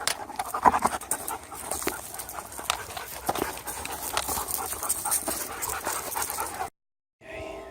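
Several dogs panting steadily at close range outdoors in cold weather, a continuous rapid breathy rhythm with occasional soft whimpers, stopping abruptly before a brief final sound.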